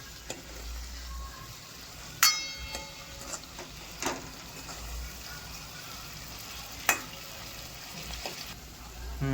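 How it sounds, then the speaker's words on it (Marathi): Chickpea curry being stir-fried in a pan: continuous sizzling with intermittent clinks and scrapes of a spoon, a few sharper knocks standing out, close and fairly loud. "मस्त परतून घेऊयात आता याला"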